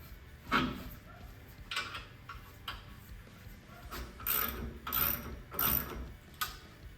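A ratchet with a 19 mm socket reattaches brake and ABS line brackets on a Ford F150 during a lift kit install, giving several short clicking bursts close by, separated by brief pauses, with no talk.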